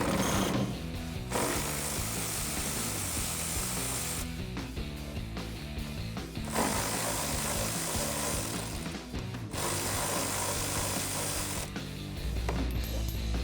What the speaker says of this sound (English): I'm going to be using my 10mm socket and my electric ratchet.